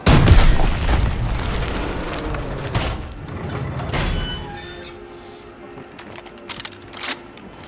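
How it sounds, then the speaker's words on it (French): Bazooka explosions in Call of Duty WWII zombie mode: loud, booming bursts crowd the opening seconds, with further blasts near the middle before fading into quieter game noise and a few sharp pops. "Je suis un putain de bazooka."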